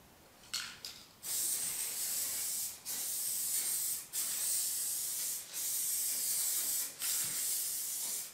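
A rattle can sprays a second coat of base coat onto a car in about six hissing bursts, each lasting a second or so, separated by short gaps and heard close up.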